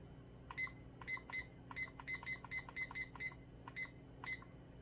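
A kitchen timer beeps in quick, irregular bursts of short electronic bleeps as its buttons are pressed to set it, heard faintly over a low room hum.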